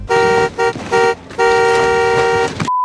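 A car horn honks repeatedly behind a city bus at a stop, in several loud, sustained blasts of uneven length, ending in a steady tone.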